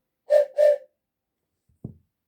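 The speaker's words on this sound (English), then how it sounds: "replied Thomas, and then he blew his whistle again." Thomas the Tank Engine's steam whistle gives two short toots in quick succession, clear and close, then silence before a brief low thump at the end.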